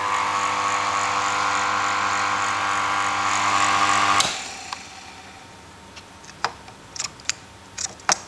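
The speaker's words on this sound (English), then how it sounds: "Got a nice little handy pump from the washing machine" A small pump salvaged from a washing machine, wired up and tested through a Variac, drones with a steady electric hum for about four seconds, then cuts out abruptly, leaving scattered faint clicks and taps.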